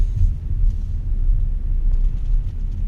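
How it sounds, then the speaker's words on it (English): A garage door closes with a loud, steady, low rumble that runs continuously at close range, with no voices. "So I'll close up the garage."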